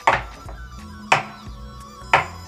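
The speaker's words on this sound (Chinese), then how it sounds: "所以首先先把虾剁" Water prawns chopped with a cleaver on a board, three evenly spaced heavy chops about a second apart, each a sharp thud with a brief ring, close and alone.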